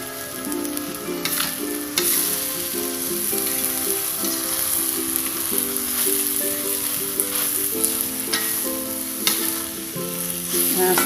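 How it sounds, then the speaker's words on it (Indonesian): Shrimp and tempeh frying with green chilies for a Cirebon-style green chili vegetable dish, stirred in the pan, giving a steady, continuous sizzle with soft scraping under background music. "Aduk-aduk ya."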